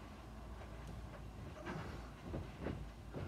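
A train rumbles along steadily with soft rhythmic clacks and hisses, a continuous low rolling sound with occasional bursts.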